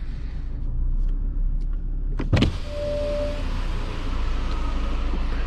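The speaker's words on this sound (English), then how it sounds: "So the back window almost goes fully down, it doesn't go all the way" The electric rear window of a 2020 Volkswagen Golf 8 hums down in one steady motorized run over a car interior rumble, ending with a brief clunk as it stops short of fully open.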